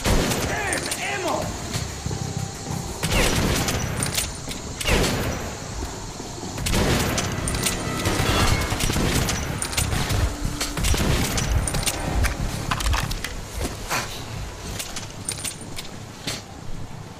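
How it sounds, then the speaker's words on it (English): Shotgun blasts and other weapon fire in the shooter game Metro: Last Light, loud booming shots scattered among clanking and game noise, with a player talking over the action. "How the fuck are y'all surviving so many direct shotgun blasts?"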